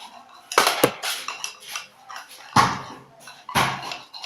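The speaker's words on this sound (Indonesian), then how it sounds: "Aduk." Slime being stirred in a container, giving sticky, squelching scrapes with a few sharper clinks of utensil against the vessel, loud and close, in bursts separated by short pauses.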